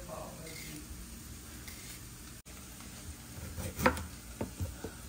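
Chopped carrots tipped into a hot frying pan, a faint sizzle and stir with a brief louder splash of hissing and clatter near the end, a voice speaking over it.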